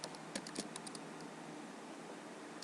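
Quick bursts of keystrokes on a computer keyboard while coding, a light cluster of close, crisp clicks in the first second that thins out into quiet room tone.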